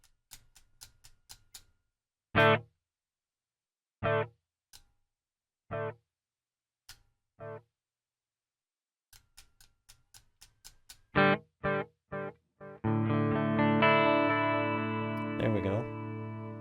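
An electric guitar plays through a Donner REVECHO delay/reverb pedal. Short single notes and chords ring out with silence between them, then a sustained, effect-laden strum swells and rings out, with brief talk near the start.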